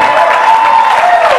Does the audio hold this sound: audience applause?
yes